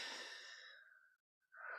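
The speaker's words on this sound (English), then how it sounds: "Let's take a breath." A deep breath is drawn in softly, a gentle airy rush that fades into a brief silence before another breath begins, close and quiet with no talking.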